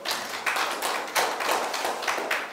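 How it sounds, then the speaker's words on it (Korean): An audience at a Korean local-autonomy forum applauds a professor, giving dense, steady hand clapping in brief swelling waves that carries on throughout without any voices. "우리 다시 한번 홍한석 교수님께 뜨거운 박수 부탁드리겠습니다."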